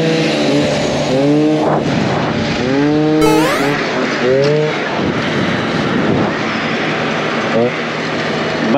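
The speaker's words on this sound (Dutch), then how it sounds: "Ik ga de scooter warm draaien." A scooter engine with a Yasuni exhaust or Sito Plus exhaust revs up and down repeatedly, rising whines sweeping upward as it accelerates, loud and close, with a brief high squeal partway through.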